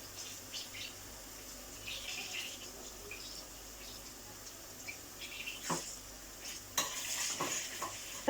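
Grated garlic sautés in melted butter for a mint yogurt soup, a soft steady sizzle broken by utensil stirring and scraping that sharpens near the end, no voices.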